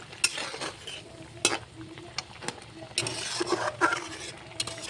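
Pre-fried shrimp tipped into a pan of salted cooking and stirred, with repeated close metal clinks and scrapes of a utensil over a soft, steady sizzle.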